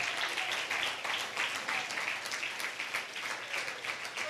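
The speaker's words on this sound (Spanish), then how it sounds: "Denle un fuerte aplauso al Señor." A church congregation applauds together, sustained crackling claps rising and dipping slightly in intensity over a few seconds, heard from a moderate distance and fairly soft overall.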